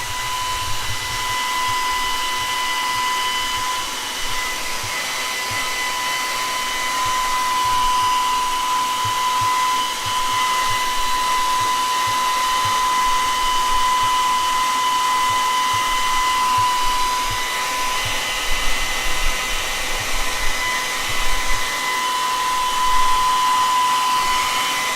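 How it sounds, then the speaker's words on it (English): A hairdryer runs steadily and close for the whole stretch, drying a watercolor illustration, a constant loud whooshing drone with a thin high whine and no talk over it. "I'm gonna use my hairdryer one more time"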